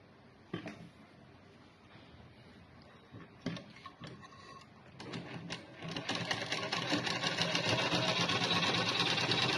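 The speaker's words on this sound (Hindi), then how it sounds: "जैसे मैंने देखो बेल्ट लगा के इसके ऊपर सिलाई लगा दी" A sewing machine stitches a belt onto a blouse, starting with a few soft clicks and short bursts, then settling into a steady, loud, continuous whirring run of stitching with no talk.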